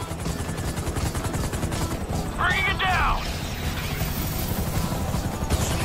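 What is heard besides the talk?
helicopters in GTA V video game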